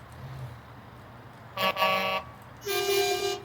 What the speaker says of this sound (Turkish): Kornalarımız da böyle.